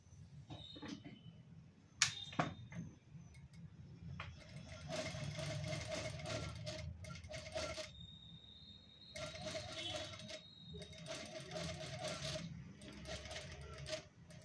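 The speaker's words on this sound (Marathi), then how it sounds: "तर आपण आता स्टिच करून घेऊयात" A sewing machine stitches a star-shaped neckline on thin fabric in quiet bursts of a few seconds each, with pauses and small clicks between runs.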